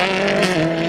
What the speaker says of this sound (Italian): Sentite il motore con cambio sequenziale